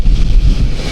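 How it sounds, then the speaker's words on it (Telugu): Strong wind buffets the microphone on the Nellore barrage, a loud continuous low roar with gusty rumbling and no speech. "గాలి చూడండి ఎట్లుందో, తోసేస్తా ఉంది."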